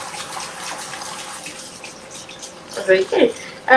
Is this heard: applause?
no